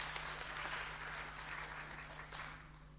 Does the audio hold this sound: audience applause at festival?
yes